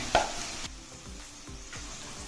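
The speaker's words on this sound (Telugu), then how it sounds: "ఇప్పుడు ఈ తోటకూర అంతా ఈ తాలింపులో వేసుకుందాం" Green amaranth leaves hit hot tempering oil in a pan with a loud burst of sizzling, then settle into steady frying with soft stirring scrapes recurring in a slow rhythm, close and with no voices.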